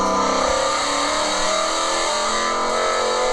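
A race car engine sounds with a steady, harmonically rich mid-pitched note that shifts slightly while braking and coasting, close and continuous throughout with no talk.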